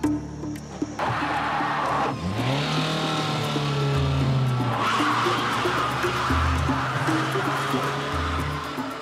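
A front-wheel-drive old car struggles up a bad, slippery slope, its engine labouring loudly and rising in pitch as the wheels spin, with steady roaring and surging revs throughout.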